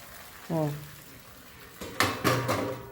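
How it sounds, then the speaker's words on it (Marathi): A lid is set onto a cooking pot in a home kitchen, giving two or three sharp metallic clanks near the end, with a brief voice speaking just before. "आता वर झाकण घाला"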